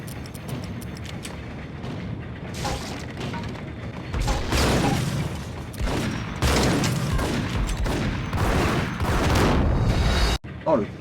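Grenades explode in the Max Payne video game, a series of heavy booming blasts layered over dense gunfire and game noise, loud and continuous, with a player talking over it.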